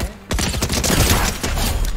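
Shotgun blasts and gunfire in a battle royale match arrive as a dense, loud fusillade of crackling shots that begins abruptly after a brief quiet moment and continues to the end.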